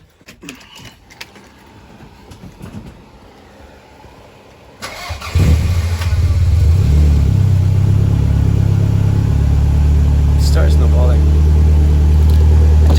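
After a few seconds of quiet shuffling, a classic car engine cranks, catches, and settles into a loud, steady rumbling idle.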